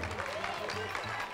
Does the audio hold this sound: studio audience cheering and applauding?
yes